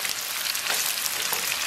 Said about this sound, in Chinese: 咱们把肉丝给它简单煸炒一下